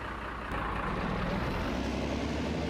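A Fiat tractor engine in the video game Farming Simulator 25, a loud steady diesel drone that steps up slightly in level after a moment and then holds on, with no talking.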